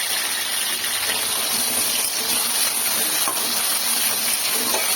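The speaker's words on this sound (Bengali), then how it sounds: "তেল ভালো মতো গরম হলে কুচানো ওল দিয়ে দিলাম।" Diced elephant foot yam with salt and turmeric sizzles in hot mustard oil, a loud, close, continuous frying hiss and crackle that keeps a steady intensity throughout with no talk.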